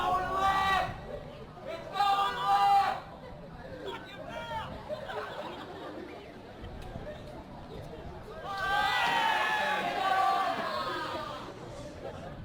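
Spectators at a Thursday-afternoon schoolboy rugby league match, St Patrick's College against Ignatius Park College, chatter and call out in a steady crowd murmur that swells in louder bursts, with a nearby voice talking over it.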